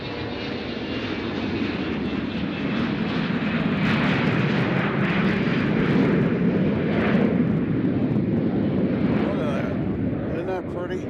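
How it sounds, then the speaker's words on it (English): An aircraft at Nashville International Airport roars past, its engine noise a broad, loud rumble that swells toward the middle and then tapers slightly, with a voice talking over it. "Now that is a fancy aircraft, folks."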